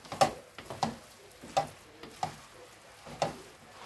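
Food sizzles in a pan while a utensil stirs it in repeated scraping strokes about every half second, close and fairly quiet, with coconut milk about to be added.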